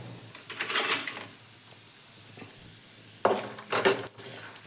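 Urad dal, peanuts, cumin and mustard seeds hit hot oil in a pan, giving two short bursts of crackling sizzle and stirring separated by a quieter hissing stretch, close and moderately loud.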